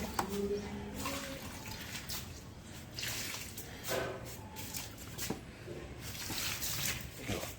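Water poured onto potted plants, irregular splashing and trickling bursts up close, with faint speech briefly in the background.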